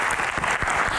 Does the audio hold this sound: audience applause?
yes